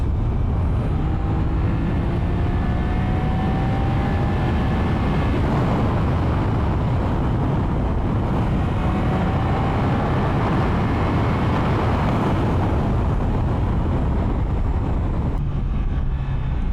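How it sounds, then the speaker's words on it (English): A Triumph Daytona 660 motorcycle being ridden, a loud continuous engine roar with wind rush, rising and falling through gear changes over the whole stretch. "It rides incredibly well. It sounds godlike. What an amazing motorcycle this is."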